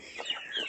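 Chickens clucking softly at a farmyard in a Russian village, a brief, faint run of clucks with no talking.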